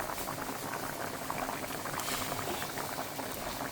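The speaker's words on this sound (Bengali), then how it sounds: "এই যে মাছগুলো আমি তরকারিতে দিয়ে দিচ্ছি।" Fish curry boiling in a pot, a steady close bubbling and popping that runs continuously without pause at even loudness.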